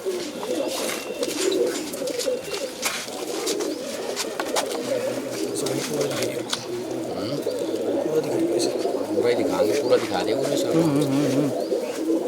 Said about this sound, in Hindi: ये है भाइयों रोबिन भाई का सबसे पुराना कबूतर